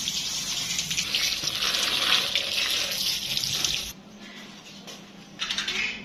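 Tap water runs steadily into a kitchen sink while dates are washed under it, a loud hissing stream that briefly drops away near the end before gushing again.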